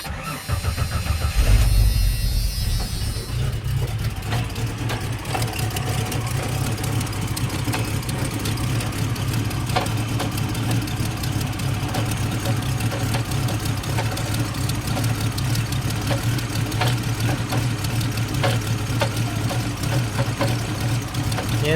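A Jeep 4.0L Renix stroker engine cranks and catches, then settles into a steady, close idle with a low rumbling pulse that holds evenly for about twenty seconds.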